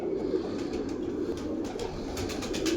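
A breeder pigeon pair coos softly and continuously, a low rolling murmur held close by over faint background noise.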